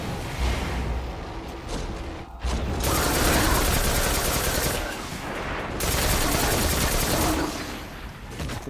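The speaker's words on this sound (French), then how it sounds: "Donc pour le Monte Carlo, un peu moins stable, par contre tire en rafale, que je trouve personnellement assez redoutable." The Monte Carlo exotic auto rifle in the Destiny video game fires in loud rapid bursts, dense crackling gunfire broken by short pauses, sounding close and continuing across the clip with no talk.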